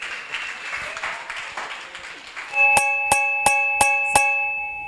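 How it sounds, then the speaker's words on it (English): An audience gives a round of applause at a talk on dating, relationships and family: scattered, moderate clapping that gives way to five evenly spaced, ringing chime-like strikes. "Can you give him a round of applause?"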